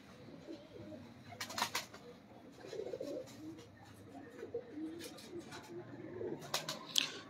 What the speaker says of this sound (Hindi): ये शर्मीले कबूतर हैं दोस्तों।